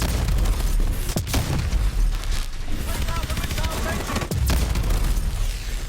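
Heavy gunfire from Call of Duty: Advanced Warfare on the Terminus map, loud continuous bursts with sharp cracks and booming blasts layered densely, with a voice talking over the shooting.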